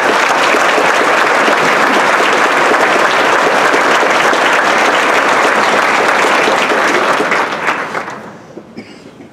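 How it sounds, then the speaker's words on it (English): Loud, sustained applause from a large crowd, steady for several seconds before tapering off into a few scattered claps. "Round of applause for all of you."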